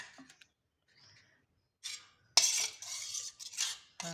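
Spoon clinking and scraping inside a glass or jug while a healthy homemade juice with a pinch of salt is mixed, starting faintly then turning into a steady close run of clatters for the last couple of seconds.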